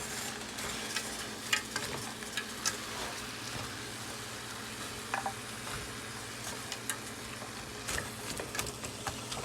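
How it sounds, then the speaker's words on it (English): Turkey spaghetti sauce with green pepper and onion being stirred in a pot, a soft steady sizzle with repeated light spoon scrapes and clicks close by. "And give it a good stir."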